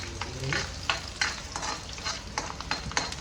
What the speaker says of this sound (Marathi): मिरची आणि लसूण ना गं सगळं आपण भाजून घेऊ पहिले